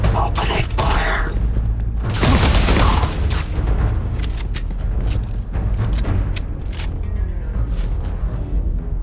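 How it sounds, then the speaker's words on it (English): Gunfire erupts in the Starfield video game as a loud, sustained barrage of rapid shots and booms layered over a heavy rumbling background, with dense crackling bursts throughout. "Opening fire!"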